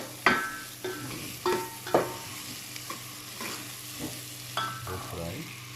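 Onion, chili and garlic fry in hot oil for a small fish curry, giving a steady sizzle broken by sharp, repeated scrapes and clatters of stirring at irregular intervals.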